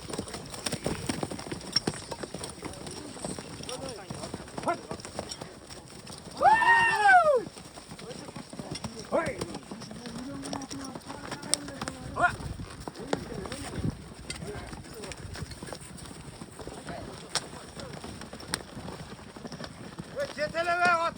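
Horses gallop during an ulak goat-pulling match in Nookat district. Hoofbeats thud through steady outdoor crowd noise, with a short whinny partway through and someone talking over the action.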